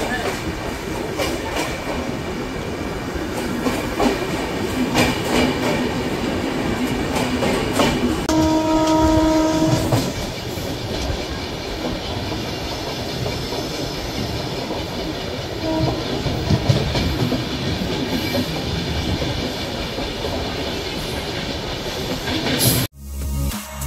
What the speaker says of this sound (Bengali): এখানে ট্রেনটি স্টপেজ মাত্র 2 মিনিট